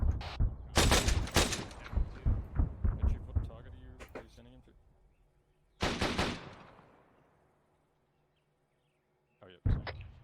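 Artillery rounds fire and land in ARMA 3: rapid heavy booms crowd together at first, then a lone blast comes later and rumbles slowly away, with a final boom at the end and radio-style voices talking in between.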